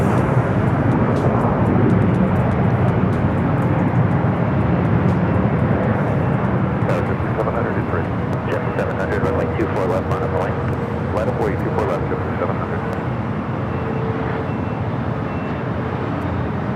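Jet airliners roar steadily in a loud, sustained broadband rumble as they depart Los Angeles LAX airport, heard from a hotel rooftop with city traffic beneath, while someone talks over it.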